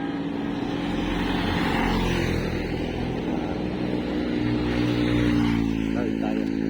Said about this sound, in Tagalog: Medyo mabibilis lang ang motor dito.